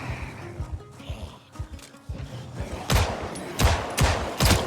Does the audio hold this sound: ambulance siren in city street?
no